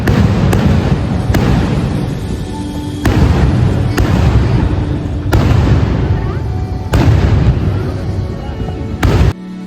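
Loud fireworks bursting outdoors at the Thrissur Pooram festival, a series of heavy booms every second or so with crackling and a busy crowd murmuring underneath.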